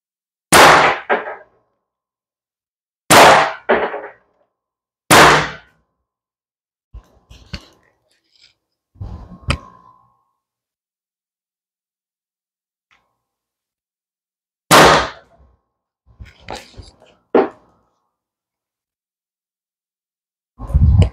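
An HDP50 27-joule air pistol firing steel bearings at a target, about five sharp loud cracks spaced a few seconds apart, with clanks of impacts and handling noises in between and short silences.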